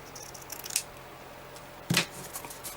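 Scissors snipping thick fabric while trimming lace for shabby Christmas wall decor, two short crisp cuts about a second apart in a quiet room.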